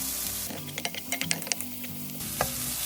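Green onion stir-fried in cooking oil in a pan for Korean kimchi fried rice: a steady close sizzle with a run of sharp utensil scrapes and taps against the pan, then a last clink near the end, no voices.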